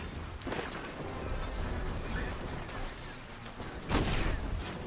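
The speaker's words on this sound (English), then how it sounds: "That explosion is so cool." Explosions in Destiny 2, with loud booming blasts and crackling debris, two especially strong bursts standing out against continuous rumbling chaos.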